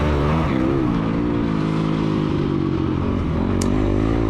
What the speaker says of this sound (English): I'm riding my older bike, 2006 CRF 250X. You can hear it revving pretty high.